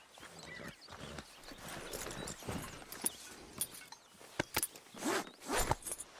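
A rider mounts a large horse in Red Dead Redemption 2: close rustling and creaking of saddle tack with scattered hoof clops and shuffles, coming in irregular bursts with no talk over them.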